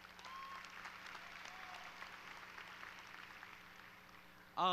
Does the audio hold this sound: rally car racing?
no